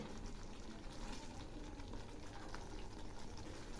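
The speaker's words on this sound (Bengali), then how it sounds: "এগুলি আর একটু ফুটবে" Raw tomato curry simmering in a pan, a soft steady bubbling and gentle hiss that stays even and quiet throughout, with no talking over it.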